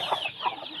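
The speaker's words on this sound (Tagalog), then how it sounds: "Ito guys. Ang manok natin." A chicken gives a couple of short, close clucks in quick succession, brief and moderately loud with no talking over it.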